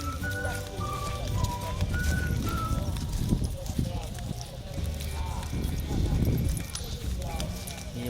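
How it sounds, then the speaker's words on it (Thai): A white horse walks at an agricultural fair, its hooves clip-clopping steadily in the background under close, continuous talk, amid the busy crowd noise of the fairground. "นี่น้องเฟิร์นขึ้นม้าไปแล้วครับ ม้าสีขาว"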